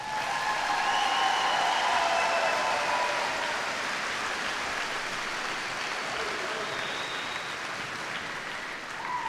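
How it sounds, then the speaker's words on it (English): A graduation audience at BHS gives sustained applause, a broad wash of many hands clapping that is loud at first and eases slightly as it goes on. "I think we deserve a round of applause"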